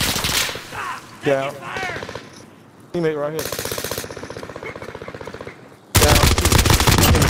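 Rapid automatic gunfire in the video game Call of Duty: Modern Warfare, with loud sustained bursts that break out near the end, while players talk over the action.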